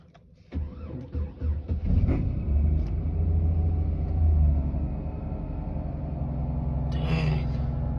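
A Chevy engine on a cold start cranks in a few quick bursts, catches, then settles into a steady low idle rumble with a brief higher whine near the end.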